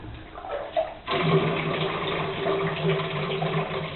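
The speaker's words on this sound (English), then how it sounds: "Empty the water out of the housing." Water pours from a plumbing filter housing into a bucket in a steady splashing stream, starting abruptly after a brief quiet moment and continuing strongly to the end.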